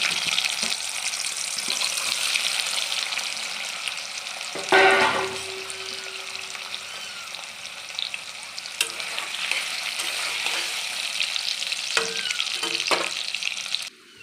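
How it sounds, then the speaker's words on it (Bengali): Cut paneer pieces frying in hot oil in a kadai, a loud continuous close sizzle with a sharp surge of spitting and bubbling as pieces drop in, then steady frying with brief clatters. "পনিরগুলো আমি প্রথমে ভেজে নেব।"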